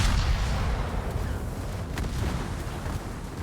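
Battleship Ise firing its guns in World of Warships, a loud low rumbling boom that rolls and sustains throughout, heavy and close, with no talking.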